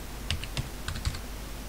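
Close computer keyboard typing, a short run of light plastic key clicks in uneven rhythm, with no talk over it.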